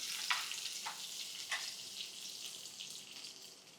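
Green chili hits hot oil with popping mustard seeds in a tempering for Brahmani amti, giving a steady close sizzle with a few sharper crackles.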